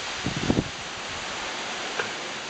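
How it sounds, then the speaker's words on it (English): Strong wind during Tropical Storm Maria roars as a steady broadband rush outdoors by a marina, with a few brief gusty bumps near the start and another around two seconds, with no talking. "It's getting really windy."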